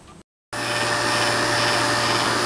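A vacuum pump evacuating an ICP heat pump system after brazing, starting abruptly after a brief silence and then running as a steady, loud, constant whine with a low hum underneath.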